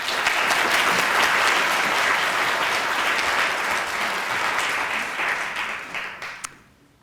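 Audience applause at the Women of Williams conference, a dense, loud wash of many hands clapping that holds steady for most of the stretch, then thins and fades out near the end.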